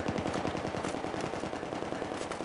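Rapid automatic gunfire in the video game Battlefield 3, a dense, steady burst of loud shots rattling without pause.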